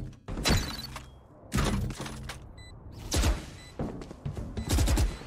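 Gunfire in Valorant during a Cloud9 versus Sentinels grand final match, several sharp loud bursts and rapid volleys separated by short gaps, with glassy impact cracks between shots and no voices.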